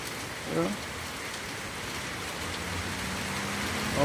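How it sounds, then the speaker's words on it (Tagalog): Steady rain falls as an even wash of noise in a barangay during a wet morning, with a faint vehicle passing and a brief sound near the start. "Mag-uwan og sama ni kusog na uwan."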